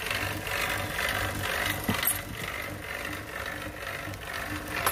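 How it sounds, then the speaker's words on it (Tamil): A vacuum pump evacuates a Mitsubishi air conditioner during a filter drier change, a continuous close mechanical rattling drone with a faint ticking texture, steady and moderately quiet throughout. "இது வேக்கம் ரன் ஆகிட்டு இருக்கு."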